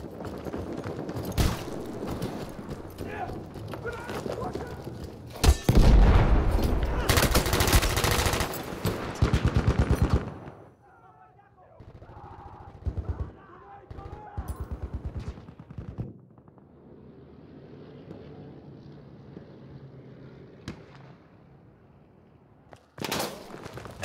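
Machine gun fire in the Battlefield 1 video game: a loud sustained burst of rapid automatic shots early on, then quieter scattered gunfire and battlefield noise, ending with a sharp single blast.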